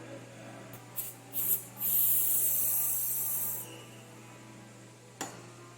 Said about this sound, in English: after a quick spray with our brake cleaner, it's looking pretty good